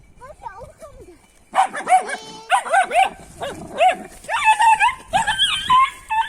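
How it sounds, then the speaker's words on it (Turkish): A dog barks repeatedly and whimpers in high, yelping bursts, with a few softer whines at the start and some laughter mixed in. "Kediden korkan köpek"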